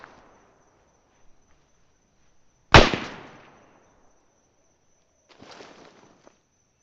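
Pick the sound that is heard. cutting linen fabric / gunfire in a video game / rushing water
gunfire in a video game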